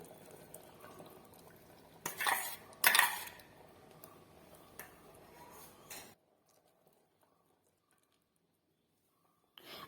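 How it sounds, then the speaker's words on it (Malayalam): Faint scraping and squelching as a thick Kerala-style curry paste is stirred in a pot, a few louder strokes, then near silence. "അരപ്പ് ചേർത്ത് ഒന്ന് ഇളക്കി കൊടുക്കാം"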